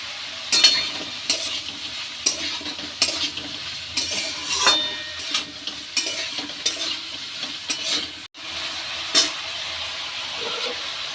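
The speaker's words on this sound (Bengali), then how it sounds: "ঝিঙে আলু দিয়ে ভালো করে নাড়বো" Ridge gourd and potato pieces sizzle in a frying pan with turmeric and salt while a spatula stirs them, scraping the pan in repeated bursts over a steady hiss, close and clear with no talking.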